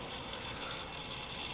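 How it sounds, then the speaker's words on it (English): Water running steadily from a homestead filter nozzle, a continuous broad hiss and gush that holds even and fairly loud throughout, with no voices. "So I'm getting water from our filter nozzle"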